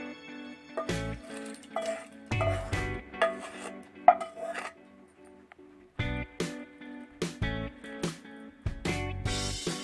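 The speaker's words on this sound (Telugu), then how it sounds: "ఇప్పుడు తాలింపు సాంబార్లో వేసుకుందాం అండి" Hot tempering with asafoetida goes into homemade South Indian sambar in a pot, followed by uneven scraping, rubbing and clinking of a ladle stirring against the metal, close and fairly loud.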